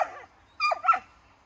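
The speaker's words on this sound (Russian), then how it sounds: "Говорят, воленды не гавкают. Вот они, облаивают как хорошо." Wolfhound and Voland dogs in a wolf park give two quick, sharp barks close together, fairly faint and with little else around them.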